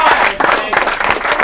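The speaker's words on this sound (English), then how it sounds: "Chris, we're going to give you a round of applause" A crowd claps in a round of applause for a football player before a Fash FC amateur match, a dense, steady burst of clapping that fills the whole moment.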